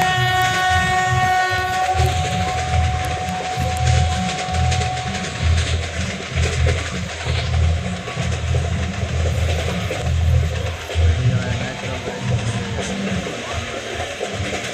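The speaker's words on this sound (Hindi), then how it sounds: "आप अपने फोन में गाइस हॉर्न देख रहे हैं सही है।" Train horn sounds in the Trainz Simulator game as the 14005 Lichchavi Express runs, a sustained tonal blast for about two seconds, then a steady rhythmic rumble of the running train continuing loud to the end.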